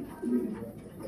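Fancy pigeons give a soft, low coo up close over a quiet background, one brief burst within a murmuring ambience.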